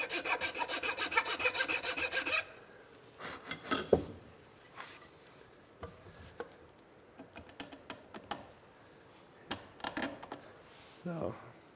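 A file rasps lightly across the end of a wooden tenon in short scraping strokes. Tapping and handling sounds follow as the bench joint is worked, close and moderately quiet.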